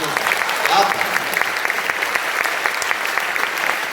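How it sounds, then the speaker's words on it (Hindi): A crowd claps at an All India Kavi Sammelan poetry gathering, producing a continuous, even wash of applause that holds steady from start to finish at moderate loudness. "हमें भी तालियों की गड़गड़ाहट अच्छी लगती है।"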